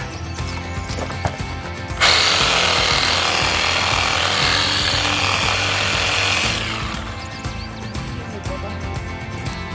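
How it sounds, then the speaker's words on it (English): A power tool trims extra branches off wooden poles outdoors, a loud, steady buzzing whine that starts abruptly, runs for about four seconds, then stops, over continuous background noise. "First I have to trim all these extra branches off the poles."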